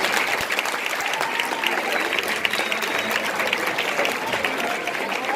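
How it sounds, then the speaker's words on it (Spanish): Strong, steady applause from an audience welcoming a history teacher at a lecture on death and philosophy, dense and sustained clapping throughout at close range. "Le pedimos un aplauso fuerte"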